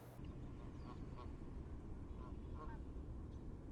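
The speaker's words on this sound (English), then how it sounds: "incredible numbers of geese fly over our little town every fading autumn" Canada geese migrating over a small lakeside town on a bay in autumn, their honking calls coming in scattered bursts, fairly distant, over a steady broadband outdoor rumble.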